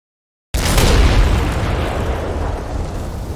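Artillery in the WinSPMBT war game bursts in after a moment of silence as a loud, close boom that rumbles and decays slowly into a dense, roaring tail.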